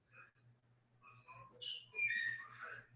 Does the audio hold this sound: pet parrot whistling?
yes